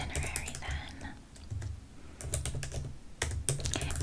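Computer keyboard typing during a travel agency roleplay, close and crisp bursts of rapid key clicks with brief pauses, quiet and intimate in an ASMR setting.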